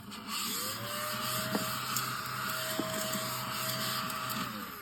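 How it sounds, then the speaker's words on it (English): A small handheld desk vacuum cleaner whirring steadily on a crafting table, a close, even motor drone that spins up at the start and winds down at the end, with a few light clicks and no talking. "So I'm just going to whiz over with my little desk vacuum."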